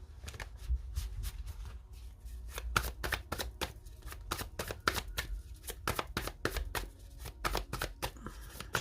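Light Seers Tarot cards shuffled and dealt out, a steady run of crisp, close riffling snaps and slaps repeating quickly with no talk.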